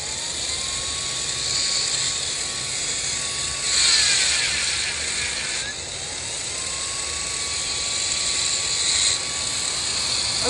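A small electric motor runs on solar panel power, giving a thin steady whine over a constant airy hiss. The whine fades out partway through, then spins back up and holds steady to the end.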